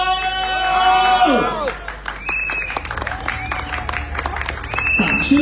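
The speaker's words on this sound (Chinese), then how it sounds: "让我们掌声欢迎他们上台来" A crowd applauds and cheers to welcome speakers onto the stage at an election campaign rally, with loud sustained clapping and whoops while a host talks over it through the sound system.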